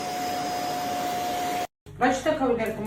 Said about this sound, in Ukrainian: Дуже хороший пилосос.